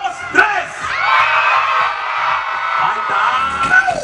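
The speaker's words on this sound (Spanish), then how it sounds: "Cuando yo diga tres, tienen que gritar como vaqueros." A crowd of children at a Children's Day festival in Manzanillo yells and whoops together like cowboys in one long, loud, sustained shout that rises and swells before trailing off.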